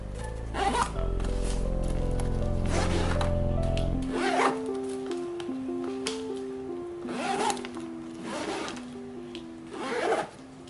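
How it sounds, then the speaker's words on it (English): The zippers of an Alpaka Elements tech case are pulled open in several short, close, raspy strokes, with light rustling of fabric in between and a soft background tone, and no voices. "Zippers are also easy to open and close without much resistance and are silent enough."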